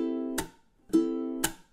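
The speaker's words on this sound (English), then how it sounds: "Like if I want to go chunk followed by an up strum" Open-string ukulele played as a muted chunk followed by an up strum, three crisp percussive strikes with ringing open chords sustaining between them, close and clear with no voice.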